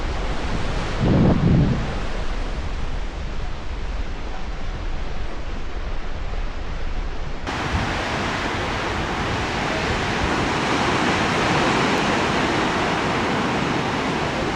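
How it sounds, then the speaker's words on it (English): McWay Falls pouring into the Pacific at Big Sur, heard from a roadside viewpoint as a broad, constant roar of falling water and surf, joined by wind buffeting the microphone with no voices. "McWay Falls is one of the only waterfalls in the continental US that drops straight into the ocean."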